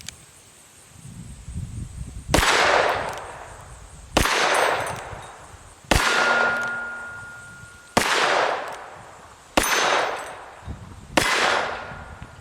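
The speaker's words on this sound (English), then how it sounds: "I'm going to shoot the smallest one on the right first, and then I'll move my way to the left onto the big steel." A Smith & Wesson Model 15-7 .38 Special revolver fires six loud, evenly spaced shots, each cracking sharply and ringing off steel targets before fading.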